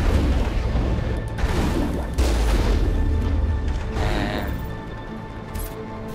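Cannon fire from the Mako vehicle in the Mass Effect video game: heavy booming blasts with crashing impacts over a rumbling in-game battle, a couple of strong hits within a few seconds.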